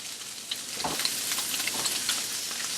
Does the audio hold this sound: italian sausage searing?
yes